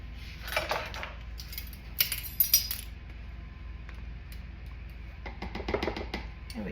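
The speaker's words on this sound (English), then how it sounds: "I'm just going to put a scoop in there" A utensil scrapes and clinks against a container while scooping lavender soap mixture, giving scattered light metallic knocks and rattles in irregular bursts close by, with no talking.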